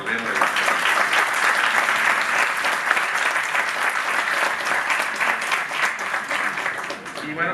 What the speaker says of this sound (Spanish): Pido un aplauso para la doctora Olga Sánchez Cordero.